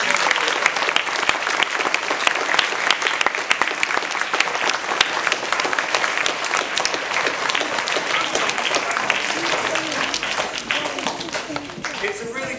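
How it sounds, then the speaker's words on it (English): A large audience applauds musicians after a live school music assembly performance. The clapping is dense and loud, sustained evenly for the full length with no voices over it. "I'd like to give them a big round of applause."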